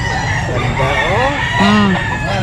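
A Golden Boy stag, a banded yellow-legged young gamecock, crows once loudly and close by at a farm, with a background murmur of other birds and voices.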